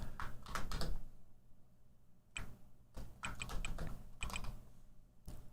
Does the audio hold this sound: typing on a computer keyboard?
yes